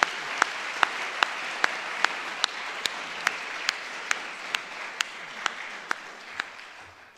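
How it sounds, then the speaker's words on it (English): Audience at a New Mexico public forum giving a round of applause, steady crowd clapping with one nearby person's sharp claps standing out in a regular beat, slowly fading toward the end. "So let's give a round of applause for Senator Sanchez."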